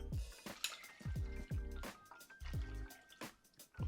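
Water drips and splashes in short repeated bursts as it is poured into a rice cooker holding quinoa, close and fairly quiet with brief gaps between splashes.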